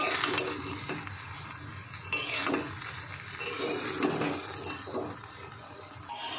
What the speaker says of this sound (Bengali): একটু নাড়িয়ে দেবো আস্তে করে নিচে যাতে লেগে না যায়